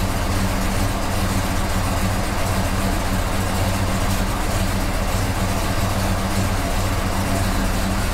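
A car engine with Holley EFI fuel injection idles steadily, a constant low rumble with an even throb that never changes pitch or level.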